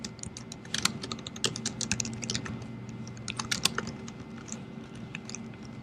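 Rapid clicking of keys as code is typed on a computer keyboard, irregular bursts of keystrokes close up over a steady low hum, with no talking.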